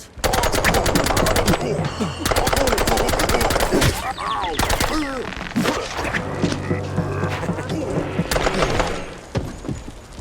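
Rapid bursts of gunfire from the PC detective game Mouse P.I. for Hire, loud and close, with repeated machine-gun volleys separated by short pauses and scattered impacts over game sound.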